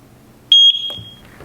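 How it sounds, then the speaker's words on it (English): A Eufy Indoor Cam 2K Pan gives a single clear, steady high-pitched setup beep lasting under a second, loud and close against a quiet room. "hold the setup button on the back for 2 seconds until we hear a beep"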